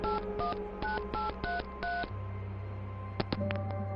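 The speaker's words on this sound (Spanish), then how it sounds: "Kressner cogió el teléfono y marcó un número." A telephone number dialed as a quick run of about six evenly spaced touch-tone beeps, each a clear two-note chirp, followed by a low steady hum and a couple of faint clicks.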